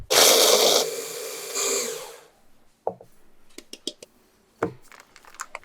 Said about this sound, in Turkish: Bisküvileri öğütün.